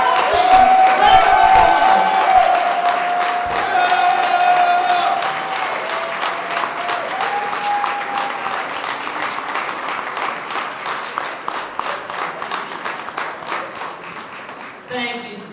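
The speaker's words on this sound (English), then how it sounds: "a rousing round of applause" Audience applause for a city councilwoman at a 2016 fundraiser, loud sustained clapping and some cheering from a roomful of people that slowly thins out, with voices faintly mixed in.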